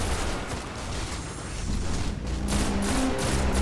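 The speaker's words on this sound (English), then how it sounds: "And I'm shooting him now." Rapid gunfire from shooting an enemy in Destiny's Vault of Glass raid, a steady dense volley of shots running throughout at even loudness, with no talk.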